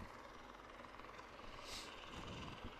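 A helicopter hovers above a high school football game, its engine a steady, faint rumbling drone heard from a distance with no talk over it.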